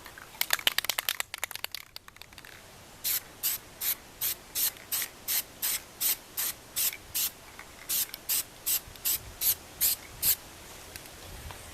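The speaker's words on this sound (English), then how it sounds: "we're just going to go ahead and spray the top separate from the bottom" Spray paint hisses onto an airsoft gun in rapid dense bursts at first, then settles into a steady run of about twenty short, evenly spaced sprays, close and fairly quiet with no talking.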